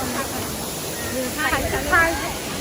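Mok Fa waterfall in Mae Taeng, Chiang Mai, gives a constant hissing roar throughout, while people talk over it.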